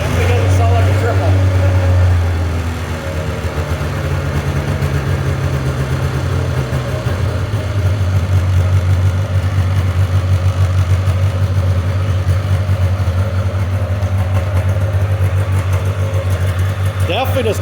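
Steady close idle from a rebuilt 1996 Polaris Classic Touring snowmobile, uneven and not running like a triple, with a slight dip early on before the low rumble settles; speech comes in over the engine.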